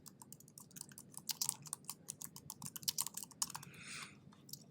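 Someone types a file name on a computer keyboard, a quick uneven run of light clicking keystrokes that sounds close but soft, ending with a short rustle, with no one speaking.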